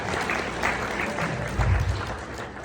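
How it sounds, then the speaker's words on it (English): Audience applause at a builders' leadership conference keynote, a steady wash of many hands clapping through the room, swelling briefly near the end. "Give her a big round of applause."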